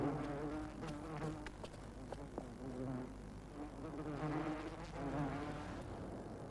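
Agitated wasps buzz continuously near their nest, a dense, wavering drone of many insects that rises and falls, close and fairly loud.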